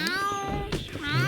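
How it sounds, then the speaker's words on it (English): Upset cats in a life-simulation video game let out a couple of whiny, rising meows in quick succession, close and fairly loud, with no talk over them. "the cats are very upset"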